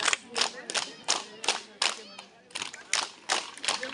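Audience clapping at a school event, bursts of applause rising and falling in several waves, with voices in the crowd between.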